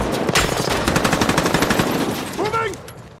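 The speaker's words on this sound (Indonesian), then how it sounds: "akhirnya baku tembak pun terjadi antara tim Merriman dan juga tim Nick" Rapid machine-gun bursts crackle steadily through a tense shootout between two armed crews in a police-versus-robbers action film, loud and close, with a brief whooshing sweep near the end.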